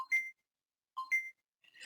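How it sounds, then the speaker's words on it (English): An electronic timer beeps in two short paired bursts about a second apart, clear and close against silence, with a faint third chirp starting at the end. "There's our timer."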